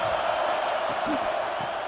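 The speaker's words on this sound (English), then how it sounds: "this defense feeling energy from the crowd" Brief steady swell of stadium crowd noise and cheering in a video game football broadcast, Hartford Colonials at Louisville Fire on a third and goal, a continuous wash with faint whoops rising out of it.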